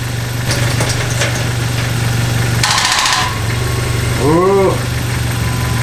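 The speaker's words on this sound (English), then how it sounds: "That starter doesn't sound good." A starter motor cranks the engine of a supercharged Dodge Viper truck that will not start. A steady low hum is broken by a brief harsh burst and then a short rising and falling whine, with a voice exclaiming briefly.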